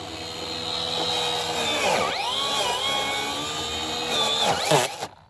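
A Lemolifys battery-powered weed eater used as a mower, cutting grass with a steady high motor whine that dips and rises in pitch as the blade bogs into the grass, then stops abruptly at the end.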